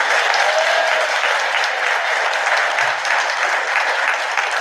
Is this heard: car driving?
no